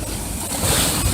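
Ocean surf rolls and crashes at Crescent Beach, Saint Augustine, Florida, a steady close wash of water with wind that swells louder midway.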